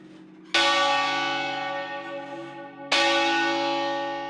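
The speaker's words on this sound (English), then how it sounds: "This is the heaviest bell in the tower" Heavy bronze church bell of about 1.5 tons in a cathedral tower struck twice, each loud clang followed by a long, shimmering, slowly decaying hum, no voices.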